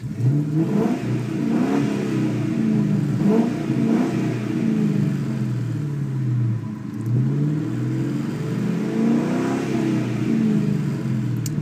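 A 2002 Ford Mustang GT V8 rumbles and revs repeatedly, each rise and fall in engine pitch recurring in a steady pattern over a deep, constant idle, close and loud with no voices.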